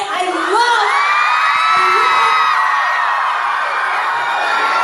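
A loud crowd at a book tour event in Dubai cheers and shouts with whoops and high yells, a dense continuous roar close by.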